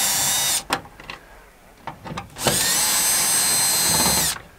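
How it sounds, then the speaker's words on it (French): A power screwdriver unscrews a camera mount on a camper van: a long high-pitched whirring burst, a few short stuttering pulses, then another long sustained run, close and loud. "On va dévisser ça."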